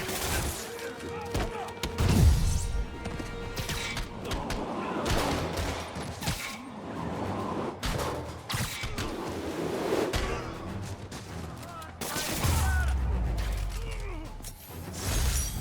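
Gunfire from armed robbers in Marvel's Spider-Man video game, loud bursts of shots and impacts mixed with game music, effects and scuffling throughout.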